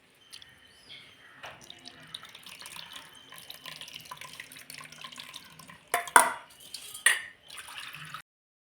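Tamarind water pours and splashes into a vessel with tomatoes, soft and trickling, with a few louder splashes and clinks toward the end.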